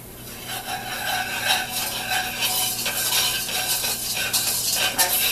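Flour and butter being stirred in a pan while the butter melts for a gluten-free sausage gravy, giving a steady, close scraping and rasping of a utensil against the pan, continuous and fairly loud with no talking.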